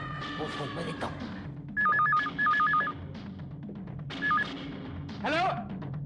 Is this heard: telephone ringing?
yes